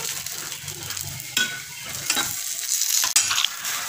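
Eggplant slices fry in oil in a pan, giving a steady close sizzle that runs throughout, with a few sharper utensil scrapes and clicks mixed in.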